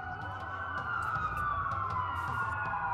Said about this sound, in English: That's a lot of sirens for a black hole.